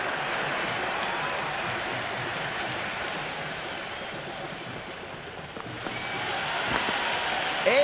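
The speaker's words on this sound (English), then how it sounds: "The crowd is electric right now." A stadium crowd at an IPL cricket match between Chennai Super Kings and Mumbai Indians, a steady broad roar of cheering and applause that swells slightly louder toward the end.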